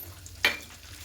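Whole garam masala (cinnamon, cardamom and cloves) dropped into hot oil for a potato dum with peas, giving one short, sharp sizzling hiss that fades quickly.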